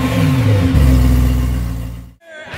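A tuned BMW-style car with a new M-Sport exhaust revs loudly at a tuning show, the engine note rising and falling in a close, throaty roar before a brief drop and a second short rev.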